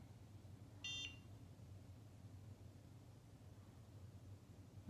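A NuFace Trinity facial toning device with the ELE attachment gives one short, faint electronic beep of about a quarter second, with a quiet low hum and background hiss before and after it.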